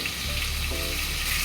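Chopped tomato sizzles in hot oil in a pan as a fish curry is cooked, a continuous close frying hiss with brief crackles.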